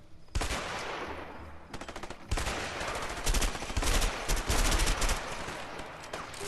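Automatic gunfire in the video game A Way Out: repeated loud bursts of rapid shots, one after another, with short gaps between the volleys and no talking.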